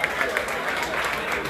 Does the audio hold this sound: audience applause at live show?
yes